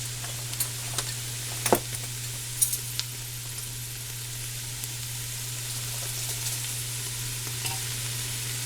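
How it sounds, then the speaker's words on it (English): Spoon stirring sugar into canned tomato sauce in a pot, a few soft scrapes and clinks early on over a steady low hum, then quieter continuous stirring. "I'm going to add a tablespoon of sugar."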